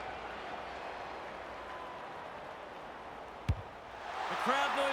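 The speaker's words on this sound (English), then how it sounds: "The crowd noise tells you all you need to know." Stadium crowd at a VFL Australian rules football match between Melbourne and South Melbourne, a steady roar that swells toward the end, with a single sharp thud partway through.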